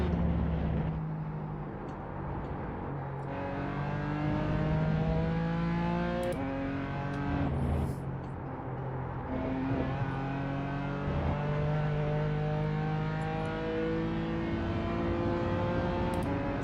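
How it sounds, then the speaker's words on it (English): Race car engines in a racing video game, a steady high droning whine with rising gear-shift sweeps as a faster car closes in and passes, loud and continuous throughout. "There's a faster car approaching"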